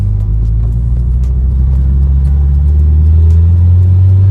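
A slightly modified Nissan S14 engine revs up, a continuous loud low rumble whose pitch climbs steadily, heard close from inside the car.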